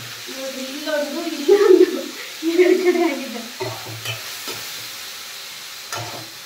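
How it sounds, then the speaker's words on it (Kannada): Spices being tempered in hot oil give a soft sizzle and hiss, with short stirring scrapes and clatter, while people talk over the cooking nearby. "ಇಷ್ಟು ಬೇಗ ಒಗ್ಗರಣೆ ಹಾಕಿದ್ದೆ ನೀನು"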